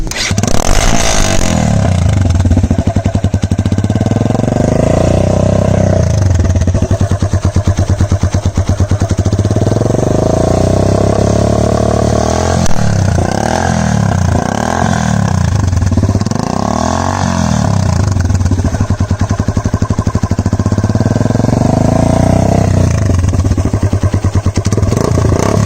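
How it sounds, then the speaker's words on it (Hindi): Motorcycle fitted with an aftermarket exhaust, engine loud and close, revving repeatedly in rising and falling sweeps over a rough idle throughout, with no talk. "नाज़रीन को साउंड भी चेक कराएं आफ्टर मार्केट एग्जॉस्ट का।"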